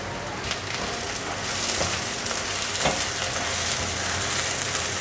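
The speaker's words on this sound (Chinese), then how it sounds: "继续翻炒。 闻到姜的香气了，放入红萝卜丝" Ginger and shredded carrot stir-frying in a hot pan, a steady close sizzle with occasional scraping stirs throughout.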